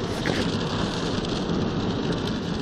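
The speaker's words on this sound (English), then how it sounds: "So we've had torrential rain all the way." Torrential rain falls steadily, a dense, even hiss of heavy downpour drumming on a surface, close and loud with no break and no talk.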